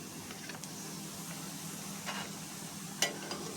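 Egg paratha frying in a hot pan on a high gas flame, a soft steady sizzle with a few light scraping and tapping sounds as it is flipped, faint and close.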